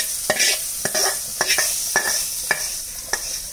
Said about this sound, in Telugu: ఈ పోపుని మొత్తం కలుపుకోవాలన్నమాట, చట్నీకి అంత కలిసేటట్టు